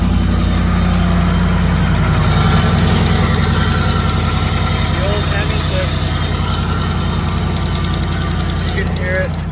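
A Dodge Ram Hemi engine idles loudly up close with a rapid, steady ticking from an exhaust manifold leak running through its rumble, and a voice speaks over it.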